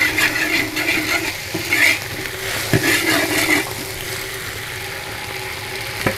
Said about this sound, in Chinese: 炒香炒出红油。